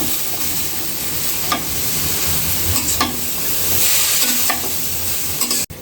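Vegetables with salt, chili powder and turmeric stirred in a pan: a steady sizzle runs under repeated scraping strokes, and a sharp knock comes at the end.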